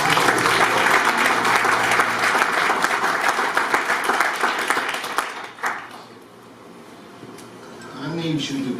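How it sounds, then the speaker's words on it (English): A church congregation claps hands together in sustained, dense applause that fills the first five and a half seconds, then breaks off abruptly, leaving near quiet with a little background noise and a faint voice near the end. "Give God a hand clap."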